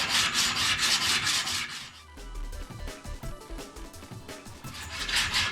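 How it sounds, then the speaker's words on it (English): Rhythmic rasping strokes of 80 grit sandpaper on a hard block working along the edges of a wooden skateboard deck, repeated back-and-forth rubbing with a brief pause midway, close and alone. "Just some 80 grit on a hard block."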